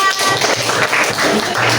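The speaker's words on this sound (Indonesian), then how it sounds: "Oke, tepuk tangan." Classroom applause fills the room, a dense, loud wash of many hands clapping at once that holds steady from start to finish, with a few voices mixed underneath.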